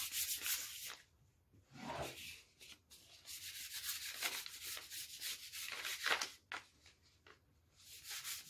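Hand sanding of a rustic wooden bench with sandpaper, steady back-and-forth rasping strokes in a repeating rhythm with brief pauses, close and moderately loud, no talking.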